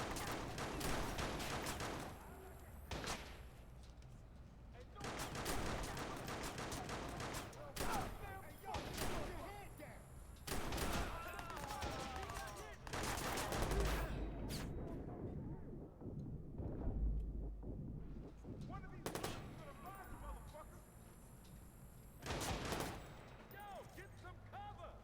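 Gunfire in the video game Watch Dogs, with repeated shots and bursts scattered through a firefight, loud and dense at times, mixed with game sound and someone talking over the action.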